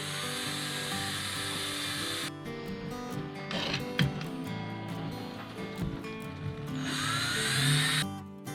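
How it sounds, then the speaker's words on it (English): A drill bores out the middle of a template on a wall, with a loud grinding run at the start, a stretch of scraping and knocking, then another burst of drilling near the end. "now he's trying to drill out the middle."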